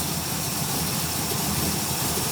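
Chevrolet 305 V8 with stock heads, new cam and a Holley 600 carburetor on a single-plane high-rise intake, idling after a cold start: a dense, steady, unbroken rumble, close and loud, with no voices.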